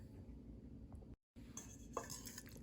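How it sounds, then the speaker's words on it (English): A utensil stirs pre-made sauce in a pot, with faint scraping and light clinks against the metal. The sound is quiet and close, with a brief silent gap midway and slightly busier rattling toward the end. "And a quick stir."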